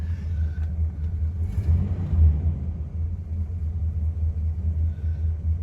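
A 1966 Chrysler Newport's engine idles with a low, steady rumble and a slight uneven throb, close and continuous with no revving.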